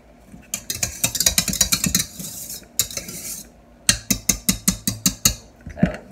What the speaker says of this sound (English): So I'm just gonna fold this in with my spatula.